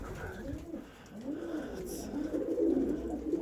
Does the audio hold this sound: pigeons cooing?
yes